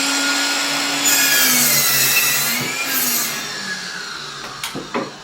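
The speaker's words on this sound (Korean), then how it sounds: "지금과 같이 이렇게 사이즈로 절단이 됩니다" Wooden boards being cut to size for a DIY acoustic diffuser with a power saw: a loud, steady whining cut that runs for several seconds, then winds down into a few short knocks and clatters.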